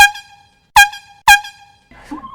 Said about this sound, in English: And then you hear an air horn.